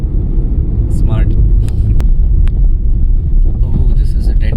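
Steady low engine rumble and road noise fill the cabin of a car driving a mountain route from Kanatal toward Barsu, with people talking over it throughout.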